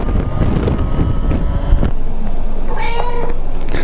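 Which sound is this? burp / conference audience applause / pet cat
pet cat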